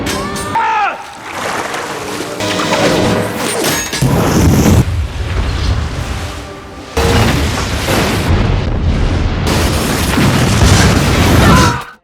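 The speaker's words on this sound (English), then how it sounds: "triggering a massive explosion that finally destroys and sinks the Antonia Graza" A ship is blown apart and sunk by a massive explosion in a horror movie, with deep booming blasts, crashing debris and sloshing water in several loud bursts, while a narrator speaks over it.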